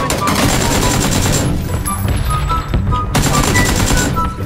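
Automatic gunfire in the battle royale video game PUBG rattles out in loud, dense bursts with brief lulls, close and continuous, while players talk quietly underneath.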